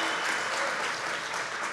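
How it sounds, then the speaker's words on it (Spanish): Audience applause at a film academy seminar, a steady dense clapping from a crowd that holds evenly throughout, with no speech over it. "quiero pedirles un aplauso para ustedes"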